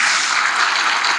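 Audience applause at a charismatic Catholic religious gathering, dense and steady clapping that fills the room evenly for about a second before tapering off at the end, with no voices over it.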